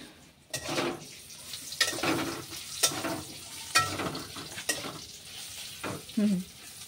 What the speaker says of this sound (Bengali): এই যে আলু গোল গোল করে কাটা হয়েছে এটা ভাজা হবে